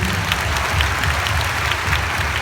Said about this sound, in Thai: มีขอเสียงปรบมือให้กับแบ็กสเตจ